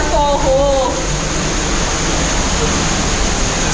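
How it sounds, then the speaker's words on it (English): A waterfall roars inside a dark cave hole at Semuc Champey, Guatemala, a loud, constant rush of water filling the space evenly from start to finish. "This is a dark waterfall hole."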